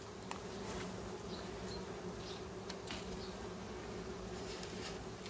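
Honey bees hum steadily around a colony, a dense, even buzz with occasional individual insects flitting nearer, no voices present.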